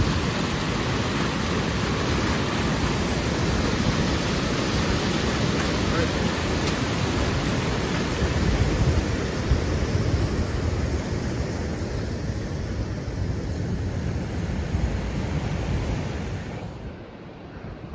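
A river stream near the Annapurna Base Camp trail in Nepal rushes in a loud, continuous broadband roar close by. It stays steady throughout and drops off abruptly at the very end.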